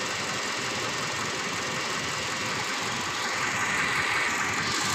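A 2016 Toyota Hilux with the 2TR engine idling with a misfire, giving a steady, loud, close mechanical rumble with an uneven knocking roughness and no talk over it.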